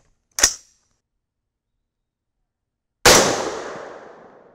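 Two sharp gunshots from an AR-10 rifle with a 20-inch Ballistic Advantage 6.5 Creedmoor barrel at an outdoor bench. The first crack is brief and the second, about three seconds later, is loud and rings out in a long decaying echo.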